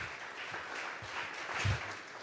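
A church congregation at a Sunday service claps steadily together, with a dense, even patter of hands that swells slightly near the end.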